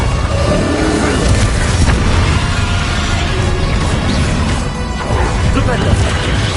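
Fiery Confringo spell blasts in the wizarding combat of the video game Hogwarts Legacy, loud crashing explosions within a dense, continuous battle din, with a voice shouting over the action.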